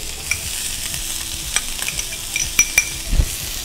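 Garlic and chopped ginger fry in olive oil with a steady close sizzle, while occasional utensil clicks and scrapes from stirring grow more frequent toward the end. No one speaks.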